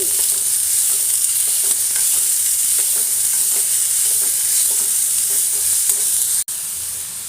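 Peeled ridge gourd skin sautés in a pan with a steady, bright sizzle and frying hiss, with light stirring scrapes throughout and a sharp click near the end.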